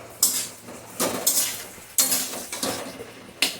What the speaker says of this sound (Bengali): এখন দিয়ে দিচ্ছি কাঁঠালের বীজগুলি, এগুলি আগে আমার সেদ্ধ করা আছে।